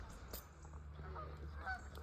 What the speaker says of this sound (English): There's some geese on the river here in the reservoir.